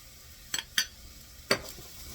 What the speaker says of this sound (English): Stir that in so it doesn't burn.